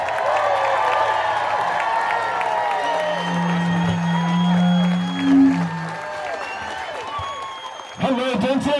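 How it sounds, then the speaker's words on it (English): Audience at a political rally in Denton stands and claps for the guest of honor, Beto, a steady wash of applause and crowd noise with voices mixed in and a brief cheer near the end. "everybody stand up and clap your hands for our guest of honor"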